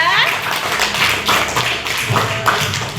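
A classroom audience claps for group 2 after a presentation on Quran reading and mosque practices, a short, uneven patter of scattered hand claps with voices talking over it.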